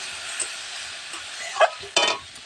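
Spice mix stirred in a hot frying pan with a ladle, a steady sizzle under a few sharp scraping strokes that grow louder near the end, no talking.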